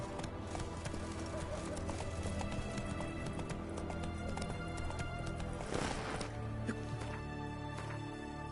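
Horse hooves gallop in The Witcher 3, a steady rapid clip-clop running throughout over a dense bed of game music and ambience, with a brief whinny-like swell near the end.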